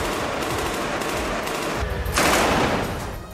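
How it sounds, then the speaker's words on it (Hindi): Machine-gun fire from Israeli soldiers inside a ruined building in southern Gaza, a rapid continuous rattle of bursts that grows louder toward the end, with no speech. "इससे पहले उन्होंने मकान के अंदर खूब गोलियां चलाई।"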